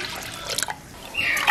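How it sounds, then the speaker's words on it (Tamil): Water poured into a pot for cooking rice, a short splashing trickle with a brief drip-like pause, close and fairly quiet. "எட்டு பனி தண்ணி விடுவோம்."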